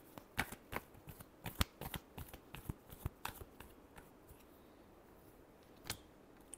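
Tarot cards shuffled by hand in quick, crisp riffles and taps, a dozen or so light flicks in an irregular burst followed by a pause and one final snap, faint and close in a quiet room.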